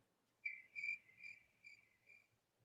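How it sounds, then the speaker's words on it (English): Crickets chirp as an inserted sound effect during a sports talk show: a faint, isolated series of about five short, high trills evenly spaced, with no talk over them. "I had to play crickets on that"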